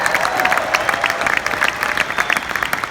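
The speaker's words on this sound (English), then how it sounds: "So ACN, please give yourselves a great big round of applause." A charity event audience claps in a loud, busy burst of applause, close and crisp, with faint crowd murmur underneath and no speech.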